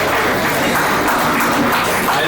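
An audience claps for prize winners at a Rotary Club of Rajahmundry school prize distribution. The dense, even applause is loud and steady for the whole stretch.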